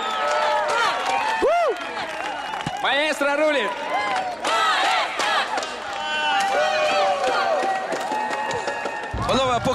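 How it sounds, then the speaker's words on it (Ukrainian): A studio audience at a TV show cheers and applauds in bursts, loud and close, with shouts and voices calling out over the clapping. "поки публіка вдячно аплодує Льоші Кузнєцову"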